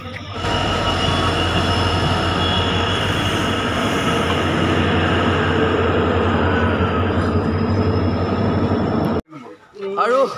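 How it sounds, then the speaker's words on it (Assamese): A train pulling into a station in Guwahati, with steady loud rolling rumble and drawn-out metallic wheel squeal for about nine seconds before the noise cuts away to brief nearby sounds. "এইফালে আমাৰ ট্ৰেইন আহি গ'ল"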